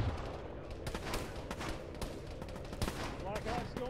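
Rapid gunfire crackles through a military video game battle as shots target a Blackhawk helicopter's tail rotor. Sharp bursts repeat steadily over a dense, continuous backdrop of combat noise.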